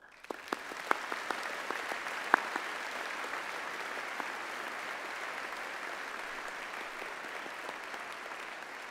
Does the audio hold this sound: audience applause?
yes